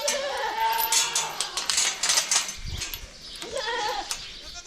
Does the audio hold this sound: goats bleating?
yes